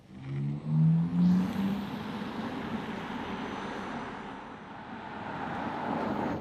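A VW ID.7 electric car turning at full lock, with a brief rising whine at the start, then steady, moderate tire and road noise without any voices.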